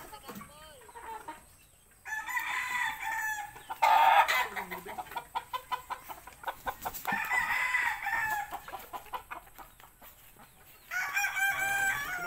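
Fighting-cock stags and chickens on a breeding yard, with roosters crowing repeatedly in loud, drawn-out calls amid clucking, and chicks peeping faintly between the bursts.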